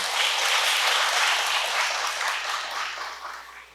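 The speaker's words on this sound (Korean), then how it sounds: "박수 부탁드립니다." Audience applause welcoming three writers at a literary festival talk in Seoul, a loud, dense wash of many hands clapping that holds steady, then gradually tapers off toward the end.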